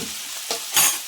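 Drumsticks frying with turmeric in a hot pan give a brief close sizzle with two quick bursts of hissing, likely from stirring or tossing.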